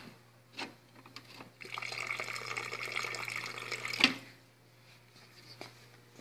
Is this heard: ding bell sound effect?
no